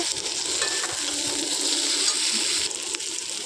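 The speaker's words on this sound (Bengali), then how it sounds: "তো আলুগুলোকে একটু লাল লাল করে ভেজে নেব।" Thick-cut potato pieces frying in hot oil in a pan with shrimp, a continuous loud sizzle with light stirring scrapes and no voices.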